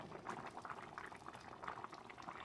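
A pot of chicken calderita bubbling at a steady rolling boil, a continuous dense gurgle and crackle of liquid, fairly quiet with no talking.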